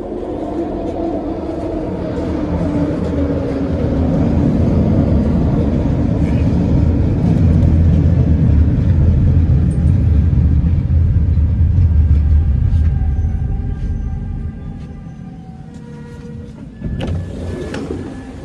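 Old SkyTrain car running with a scratching noise: a loud, steady rolling rumble that swells and then eases, with faint squeals and scraping tones above it near the end.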